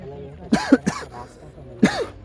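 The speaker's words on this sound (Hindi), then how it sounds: "बहुत ज़्यादा खांसी है मुझे" Three short, hoarse coughs nearby, two close together and a third after a brief pause, over quiet room noise.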